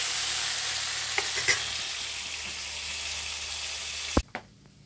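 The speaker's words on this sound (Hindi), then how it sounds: "ये चिकन फ्राई कर रहा हूँ मैं" Chicken sizzles and fries in a pan with a steady hiss, a couple of small clinks of stirring, then a sharp knock near the end as the sizzle drops away.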